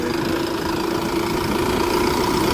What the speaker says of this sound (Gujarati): કાકા ને હેલર ચાલુ હે